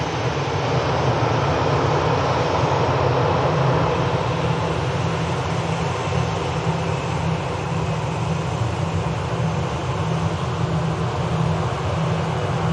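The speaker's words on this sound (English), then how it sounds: "Dreamliner's now lined up." A Boeing 787 Dreamliner holds on the runway at Manchester Airport, its engines giving a steady, loud, broadband roar with a low hum that stays constant throughout, with no voices.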